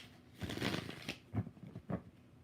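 Tarot cards shuffled by hand in a few quick riffles and flicks, close and fairly quiet, with no talk.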